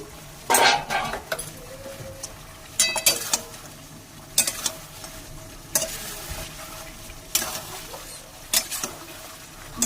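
Katla fish cooks in a mustard masala, with a soft sizzle underneath while a utensil stirs and scrapes against the pan in repeated short bursts.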